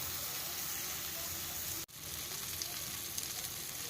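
Grey mullet (boi fish) frying in a pan gives a steady, close, hissing sizzle that cuts out for a split second partway through, then resumes evenly with a few faint crackles.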